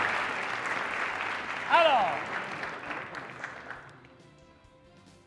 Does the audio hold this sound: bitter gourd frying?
no